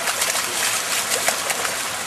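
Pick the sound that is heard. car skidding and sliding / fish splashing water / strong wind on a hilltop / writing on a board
fish splashing water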